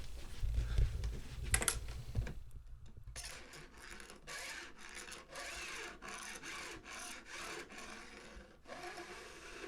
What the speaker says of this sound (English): here's that StewMac snap file with the perpendicular teeth